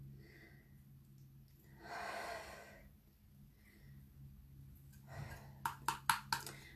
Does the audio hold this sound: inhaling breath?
yes